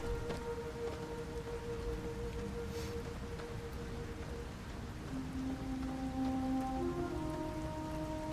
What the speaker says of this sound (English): I actually like the sound of the rain and stuff in the game.